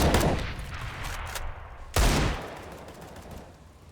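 Pistol gunfire on the Nuke map in Counter-Strike: two loud bursts of shots, one at the start and another midway, each trailing off into a reverberant decay, with fainter scattered pops in between.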